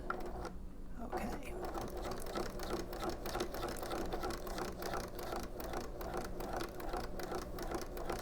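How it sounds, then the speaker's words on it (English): A sewing machine runs steadily while stitching a fly front zipper, a fast continuous mechanical chatter close by that starts after a brief pause and carries on evenly to the end. "Stitching on the line"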